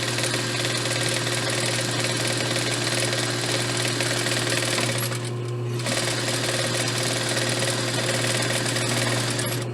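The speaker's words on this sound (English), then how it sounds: "we're going to sew along two sides of our fabric" A sewing machine stitches along the sides of pillowcase fabric with a steady, rapid mechanical clatter, close and continuous, pausing briefly midway before resuming, with no talking.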